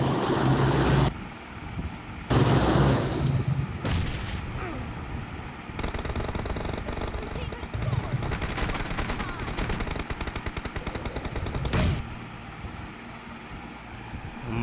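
Bombs and heavy gunfire explode in a video game, with bursts of loud blasts and rapid machine-gun rattle, aircraft engines roaring and a long, dense barrage in the middle before it drops back to rumbling engines.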